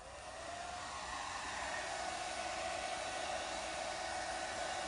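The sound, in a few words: hair dryer blowing cool air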